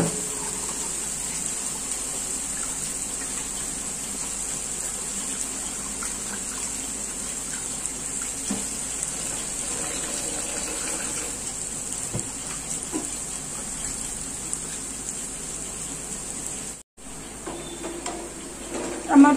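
Meat being washed under running water from a tap, a steady close gush and splash that continues for a long stretch, briefly cut off near the end before resuming.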